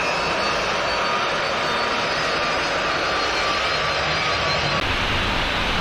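Loud, steady roar and whine of a KLM Boeing 747 airliner's jet engines as it taxis on the runway at Los Rodeos Airport, Tenerife, continuous and close throughout.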